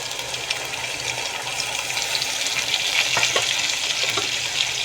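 Biryani masala fries in a pan while being stirred after yogurt is added, giving a steady, loud sizzle with scraping stir sounds throughout and no talk.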